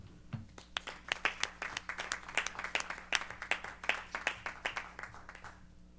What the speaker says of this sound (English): I think we just need to give them a little round of applause for what they've done